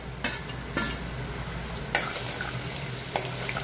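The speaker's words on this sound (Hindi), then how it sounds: "लो टू मीडियम फ्लेम पे रोस्ट करेंगे। अब ये हमारा रोस्ट हो गया जिंजर और गार्लिक।" Ginger and garlic roast on low to medium flame in a pan for dal makhani, giving a steady soft sizzle broken by a few sharp scraping stirs of a spoon, quiet and close with no talking.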